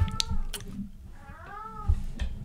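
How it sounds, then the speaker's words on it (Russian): A domestic cat meows loudly indoors, several wavering cries in a row while the owner is out, with bumps and clicks in the background. "извините, это у меня кот"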